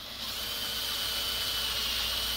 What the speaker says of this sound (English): drilling out the hole